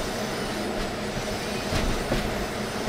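A train in a Thai train-driving video game runs steadily with a dense rolling rumble, rail clatter and brief wheel squeal, loud and continuous with no voices.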